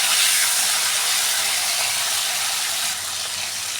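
Potatoes and yardlong beans, seasoned with a little salt and turmeric, fry in a pan, giving a steady, close, hissing sizzle that holds evenly throughout with no talking.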